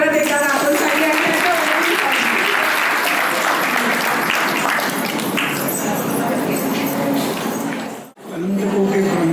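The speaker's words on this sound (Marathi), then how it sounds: "जोरदार टाळ्या परत एकदा आपण सगळ्यांनी" A crowd applauding at a 50th anniversary celebration, loud sustained clapping that fills several seconds, then a short cut before it resumes, with voices mixed in.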